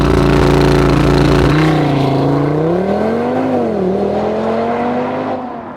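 Audi TT RS 2.5-litre five-cylinder with an unusual 1-2-4-5-3 firing order, 400 horsepower and a 7-speed all-wheel-drive gearbox, accelerating hard: a loud, close, sustained engine note rising and falling through shifts, alone without talk.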